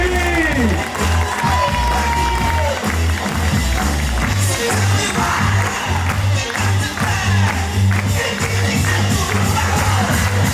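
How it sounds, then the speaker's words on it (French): A theatre audience applauds and cheers at the end of a show, dense loud clapping with whoops and crowd noise, a voice speaking briefly over it. "la dernière personne à remercier jour et jour et d'applaudir très très fort, c'est vous, le public."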